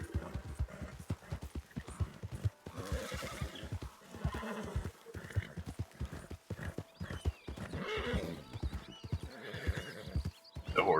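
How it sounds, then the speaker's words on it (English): A horse in Red Dead Online gallops over uneven ground, hooves pounding in a rapid steady rhythm, with several loud whinnies and snorts breaking through the close, continuous hoofbeats. "The horse is complaining it doesn't want to run on this uneven ground."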